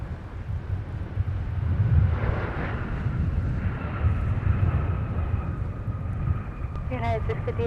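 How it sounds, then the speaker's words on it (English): A Sun Country Boeing 737 arrives at Minneapolis–St Paul airport from Los Angeles, its deep, continuous roar rumbling steadily at moderate distance while a person talks over it near the end. "Looks like we got a 737 coming in from Sun Country 424 from Los Angeles."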